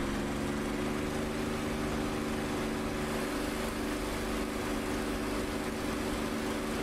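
Piston drone of a P-51 fighter's engine throttled up to military power in the DCS World flight simulator, a steady loud hum with stable low harmonics, continuous throughout with no voices.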